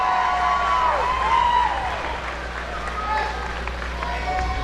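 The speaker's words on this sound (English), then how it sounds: "how about a big round of applause for Team Gold" A crowd applauds and cheers for the Team Gold boys' squad at a high school all-star basketball game coached by Bruce Bowen. The clapping is steady and roomy, and it stays under voices and arena chatter.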